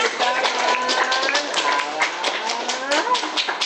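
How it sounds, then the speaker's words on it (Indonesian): A studio audience claps to welcome guests onto a casual Indonesian talk show, a steady patter of many hands with sharp individual claps and voices talking over it. "Oke, tepuk tangan."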